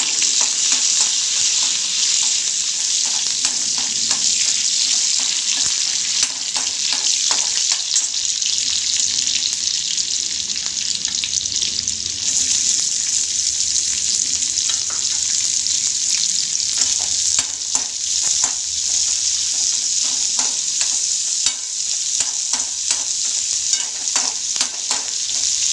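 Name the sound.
tempering cumin, mustard seeds, curry leaves, garlic, chilli in kadai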